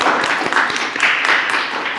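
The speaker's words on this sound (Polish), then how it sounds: "brawa dla naszego gościa" Audience at an author meeting with a journalist and writer applauds the guest, loud, close, continuous clapping filling the whole two seconds with no talking over it.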